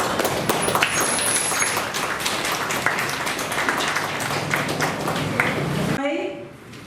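Audience at a patriotic singing competition applauding as results are announced, steady dense clapping for several seconds that cuts off abruptly near the end.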